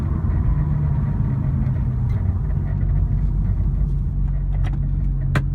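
A 2002 Porsche 911 Turbo engine pulls in 2nd gear from inside the car, a loud, steady low rumble and drone with a strong engine hum throughout and a few brief clicks near the end.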